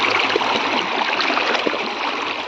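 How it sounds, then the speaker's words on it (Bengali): Water gurgles and rushes continuously as a container fills and water flows in on its own at a river, a close, steady splashing wash with no pauses. "জল গুলো ভরছে একা একা ঢুকছে"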